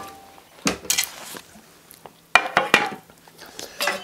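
A pan is taken out in a home kitchen, bringing several sharp metallic clanks and clatters of cookware in separate bursts against a quiet background.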